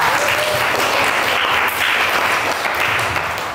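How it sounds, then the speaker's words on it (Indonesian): Students in a classroom clap together in a steady, loud round of applause that stays dense throughout, with no talking over it. "Tepuk tangan buat kalian semua"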